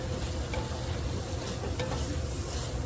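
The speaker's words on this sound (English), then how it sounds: "you're just going to give this a stir, and you're going to let it finish cooking" Ground beef and spices sizzle and fry in a pot while being stirred, a steady close crackle with faint scraping, no voices.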